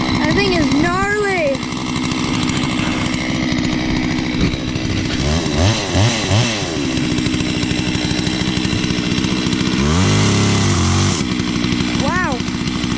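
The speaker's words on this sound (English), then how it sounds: "we're gonna use this big nasty chainsaw" Holzfforma G660 Farmertech chainsaw running loud and close at its first start, engine revving up and down in rising and falling whines over a rough steady drone, with people talking over it.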